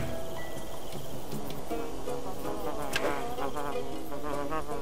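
A housefly buzzes steadily in a bee-and-mouse video game, a continuous close whine with faint ticking and game sounds, no talk.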